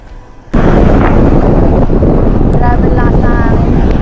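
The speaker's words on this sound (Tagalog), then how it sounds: "Grabe lakas na hangin." Loud, roaring wind buffets the microphone during a long-distance road cycling ride, after a sudden onset, a heavy rumbling gust that continues without letup.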